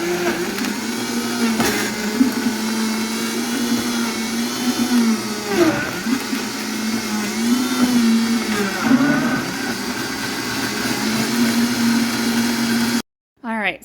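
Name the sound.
Ninja blender blending tomatoes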